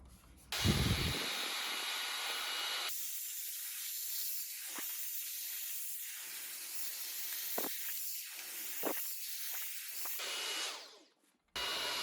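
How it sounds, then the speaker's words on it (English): Loud, steady hissing roar of a vacuum cleaning a robot vacuum's main roller area close by for most of the stretch, its pitch shifting now and then, cutting off near the end. "start vacuuming everything, including this place where the main roller is"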